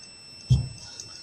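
Multimeter on its lowest ohms continuity setting beeps while testing a microwave magnetron coil: a thin, steady high tone with a short low thump partway through, no voices.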